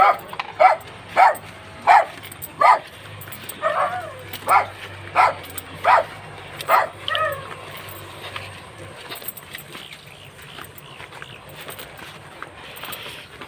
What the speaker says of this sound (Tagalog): Napakaingay itong aso.